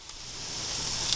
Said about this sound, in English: I hear them sizzling.